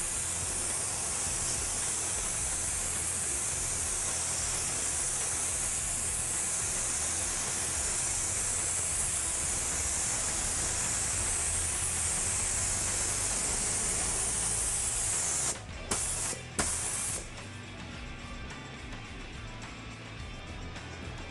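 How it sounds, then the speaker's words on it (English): Airbrush spraying graphite paint through a carbon fiber stencil, a steady close hiss that runs unbroken for most of the clip, then stutters in a few short bursts and drops away near the end. "we're going to spray graphite back through that"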